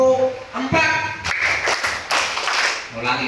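A class of grade 3B children in an Indonesian classroom claps in short grouped bursts, sharp clusters of hand claps alternating with a voice calling out and children answering.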